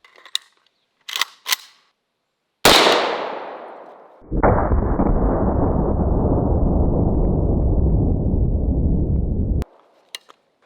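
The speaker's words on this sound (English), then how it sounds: "the next rifle we're going to use is an AK-47" An AK-47 rifle loaded with 7.62x39 full metal jacket rounds: a few sharp metallic clicks of handling, then one loud, sharp report with a decaying tail, followed by a long burst of broadband noise that stops abruptly.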